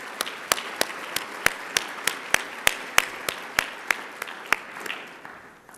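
At an education awards event, an audience gives applause to two students. Loud, sharp claps land in a steady rhythm over a thinner bed of scattered clapping, fading toward the end.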